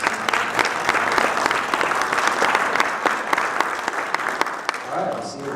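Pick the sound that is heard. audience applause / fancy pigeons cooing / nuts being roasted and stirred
audience applause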